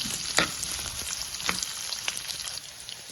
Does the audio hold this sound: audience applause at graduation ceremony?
no